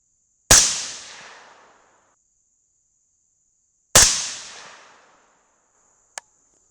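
Two loud, sharp .223 rifle shots fired with Federal AR match primers, about three seconds apart, each ending in a long decaying echo across an open range, followed by a faint small click.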